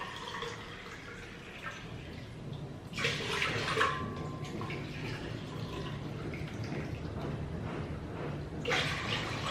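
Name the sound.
water poured into pot for boiling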